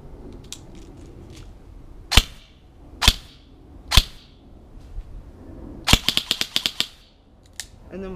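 A G&G ARP9 airsoft gun fires outdoors: a few loud, sharp single cracks spaced about a second apart, then a rapid full-auto burst of snappy shots, with faint background noise between.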